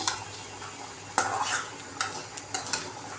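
A spatula scrapes and clinks against a pan while stirring bottle gourd bhaji, with a low sizzle of frying underneath and several sharper metallic knocks spaced irregularly, close and fairly loud.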